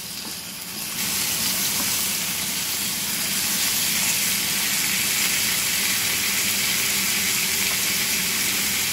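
Pork chops sizzle loudly and steadily in a hot pan just after flipping, a dense continuous hiss that swells at the start and holds without pause.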